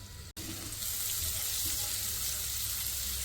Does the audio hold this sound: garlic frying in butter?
yes